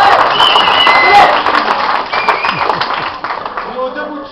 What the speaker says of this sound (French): mais applaudissez-le pour le faire